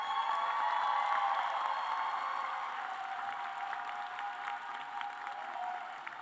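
A graduation convocation audience applauds steadily throughout, a dense, even wash of clapping heard from a distance with no talk over it.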